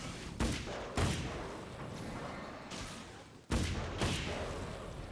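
Gunfire in the video game Alan Wake, a few loud sharp shots spaced through a busy, noisy game scene, one heavy blast near the end followed by more rumbling.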